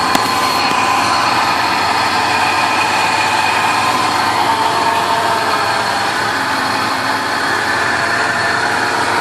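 A 1993 Ford Bronco's engine runs at a steady idle, loud and close with the hood open, a continuous low rumble with a broadband whir and no pauses.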